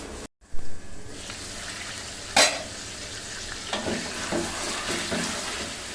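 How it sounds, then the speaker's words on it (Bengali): Beef sizzles steadily in a hot pan, with one sharp metallic clank from a utensil and occasional stirring scrapes; no one speaks. "মাংসটা একদম পুরো ভাজা ভাজা হয়ে গিয়েছে"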